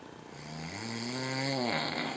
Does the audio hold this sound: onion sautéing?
no